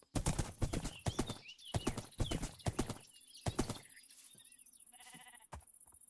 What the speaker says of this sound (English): it's fun just riding your horse